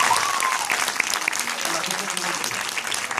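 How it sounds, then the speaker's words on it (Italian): Audience applause at an Italian event celebrating a film, a brief burst of clapping from a crowd that holds steady, with a few voices faintly beneath it. "Fategli un altro applauso."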